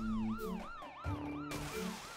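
A wailing police car siren in a VR game cycles up and down repeatedly, loud and close, over game-like engine and impact noises.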